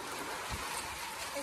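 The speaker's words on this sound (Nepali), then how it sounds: "फाइनली पानी पर्यो।" Rain pouring down during a dark thunderstorm makes a steady broadband wash of hiss, even and unbroken, with a faint low rumble underneath.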